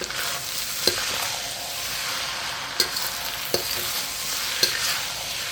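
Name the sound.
stir-frying Thai fried rice with pineapple in pan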